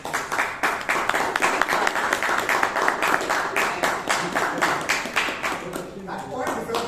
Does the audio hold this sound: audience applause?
yes